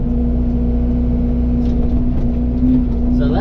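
A machine engine drones loudly and steadily at close range while dirt is pulled back to restore swampy ground, with a constant low hum and slight rises in load.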